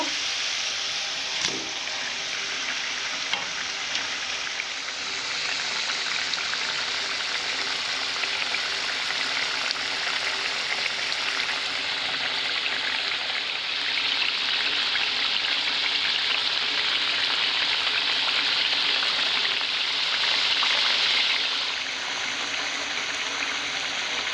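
Fish curry with poppy seeds bubbling steadily in a pan, a continuous dense hiss and sizzle at even loudness, close up and with no voices.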